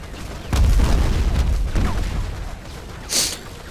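Grenade blast in the video game Battlefield Heroes: one loud deep boom with a rumbling tail, a second softer thud shortly after, then a brief sharp burst near the end.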